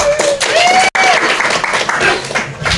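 Married couples in a comedy club audience applaud and cheer in a dense, loud wash after a call for a show of hands, with a brief cutoff partway through and some voices mixed in.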